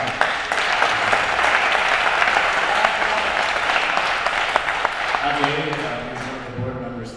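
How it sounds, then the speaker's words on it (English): Audience at an awards ceremony applauding loudly and steadily, dense clapping that carries on for several seconds before thinning out, with a voice starting to speak near the end. "I would love to give you a round of applause"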